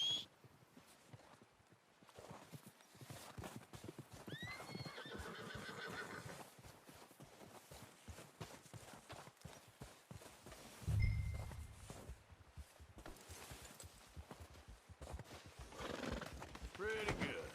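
Horse neighs and whinnies in Red Dead Redemption 2 with clip-clopping hooves walking throughout, a few distinct whinnies standing out over a steady game soundscape while a person talks.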